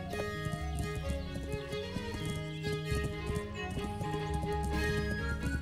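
A horse's hooves clop along steadily in Kingdom Come Deliverance, a continuous riding gait layered under a dense bed of game music and ambience.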